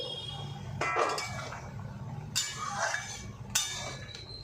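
A metal pot lid clanks and clinks while goat liver cooks, with three short, sharp metallic knocks over a low kitchen background.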